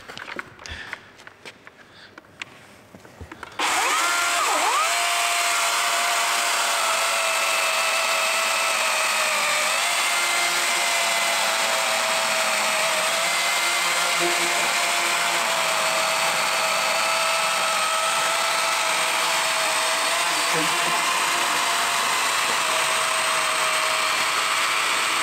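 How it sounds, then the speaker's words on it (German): Cordless saw, an 18V Milwaukee or 54V DeWalt, cutting wood: a steady, loud motor whine with sawing noise running continuously for about twenty seconds after a brief quiet start with some handling noise. "wie ein Akkusäge halt."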